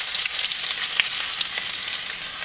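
Ginger fries in a hot pan for a Thai-style sea bass dish, giving a bright, continuous sizzle up close with small crackling pops throughout.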